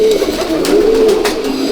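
Racer pigeons in a loft coo continuously in low, rolling murmurs, close and loud, with a steady background hum around them.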